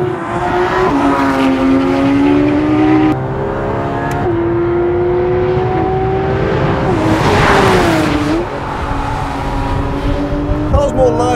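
Porsche 911 GT3 RS driven flat out on a race track, its engine loud and close, rising and falling in pitch through repeated revving and gear changes, with a voice speaking over it.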